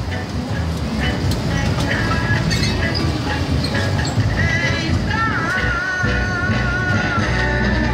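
Amusement park ride train at Mirabilândia rolling along: a steady rumbling clatter of wheels with a constant background wash, faint squeals and chatter of riders on top.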